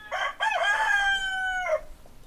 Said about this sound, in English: Shut up, Rooster. I'm talking over here.